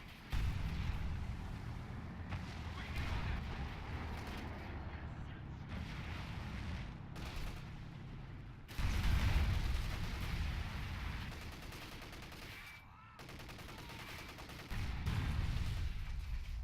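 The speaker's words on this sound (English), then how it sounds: "Royal Artillery, bombarding this area" Royal Artillery bombardment in a World War II Battle for Caen strategy game, a steady low rumble of shelling and distant booms rolling on continuously, with a voice talking over it.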